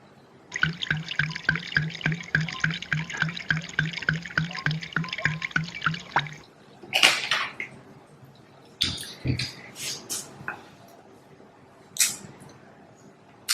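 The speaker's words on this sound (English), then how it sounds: "That's sparkling water." Homemade sparkling water poured from a bottle for a palate rinse, a rapid glugging stream for about six seconds, followed by scattered clinks and handling sounds of the glass.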